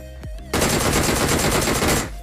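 A sustained burst of rapid automatic gunfire in the PUBG video game, loud and close, with tightly spaced shots running for about one and a half seconds before cutting off.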